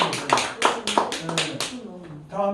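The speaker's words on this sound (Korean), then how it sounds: "우리 박수 한번 감사하겠습니다" Churchgoers at a Korean Christian alternative school gathering clap together in a brisk, regular rhythm of close, crisp claps that fades as a voice begins speaking over the end.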